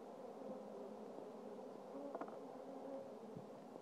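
Honeybees from a package being installed in a hive give off a steady, low buzzing drone, faint and continuous, with a few brief rustles of handling.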